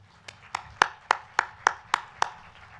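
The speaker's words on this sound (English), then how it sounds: "Please join me in applauding our distinguished guests" A few people clap slowly at a graduate commencement and hooding ceremony, about eight distinct separate claps in an even, unhurried rhythm. The claps are fairly quiet and there is no talk over them.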